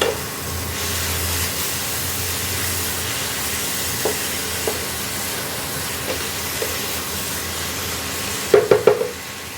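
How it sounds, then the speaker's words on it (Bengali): Banana flower curry with sugar added is stirred in a pan, giving a soft background hiss and scraping with a few faint clinks, then a quick burst of metallic spoon knocks near the end. "ঢাকাটা খুলে একটুখানি চিনি দিয়ে আবার একটু নাড়িয়ে দিলাম"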